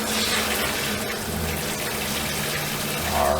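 Water runs from a tap in an RV during winterizing, a steady loud rushing gush that continues for the whole stretch without a break.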